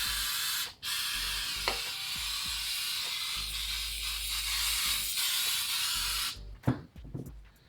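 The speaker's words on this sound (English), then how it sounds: "I'm going to go ahead and run some of this brake cleaner on here" Brake cleaner sprayed onto a Volkswagen Beetle engine part, a long steady close hiss with one brief break, ending in a few clunks and handling noises.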